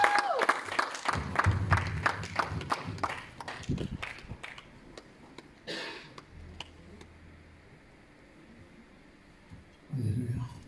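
A church congregation applauding together, with a dense burst of clapping at the start that thins into scattered claps and fades into quiet room murmur, then a brief swell of crowd noise near the end.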